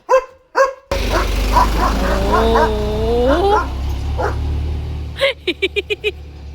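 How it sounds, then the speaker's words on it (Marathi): A German Shepherd dog barks and yips at a passing tractor, with a few sharp barks at the start, whining and whimpering over engine rumble, then a quick burst of close barks at the end. "ट्रॅक्टरला भुंकवतोय बघा आमचा लिओ."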